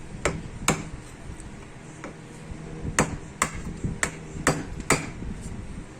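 Sharp metallic hammer blows strike a locking washer on a power steering rack and pinion during disassembly: about eight irregular, ringing hits close by, with quiet workshop background between them.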